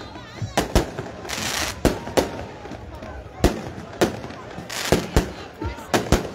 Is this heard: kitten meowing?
no